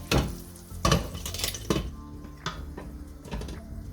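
Cheese bread frying in a pan with a lid going on, a few sharp metallic clanks and scrapes of the lid and pan over a low continuous sizzle, close by.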